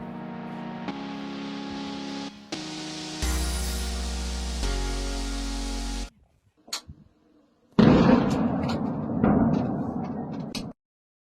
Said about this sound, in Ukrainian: Вечір лівий берег Дніпра здригається від гучних вибухів